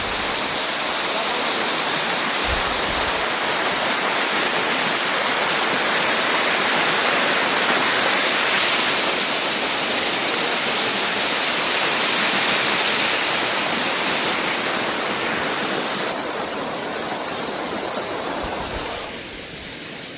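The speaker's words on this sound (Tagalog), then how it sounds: "So ito yung third falls, guys." Third waterfall along a hiking trail, a loud, steady, close roar of rushing water that fills the whole clip without pause.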